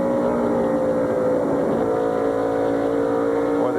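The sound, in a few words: NASCAR stock car engine picking up throttle in corner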